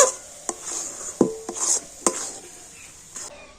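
Coconut and rice flour mixture for narkel naru being stirred in a pan, with a scattered series of scraping strokes and sharp clicks of the spoon against the metal, close but fairly quiet.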